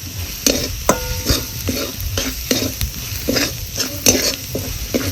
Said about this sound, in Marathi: आता हा पूर्ण एकजीव करून घ्यायचा आहे आपल्याला कांद्याचं मिसळून